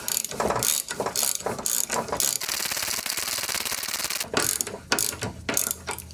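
Ratchet wrench tightening a nut on the rear shock of a 2010 Cadillac CTS: close, rapid clicking in repeated bursts with a longer continuous run in the middle.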